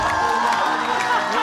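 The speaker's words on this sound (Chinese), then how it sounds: "让我们掌声有请主理人李川。" A studio audience at a Chinese talk show taping cheers and whoops for the host, a loud continuous crowd roar with shouts and some clapping throughout.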